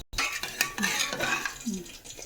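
A spoon scrapes and clinks against a cooking pot as garlic and mustard seed tempering is stirred for dal. The stirring is quick and close, with soft sizzling and faint speech underneath.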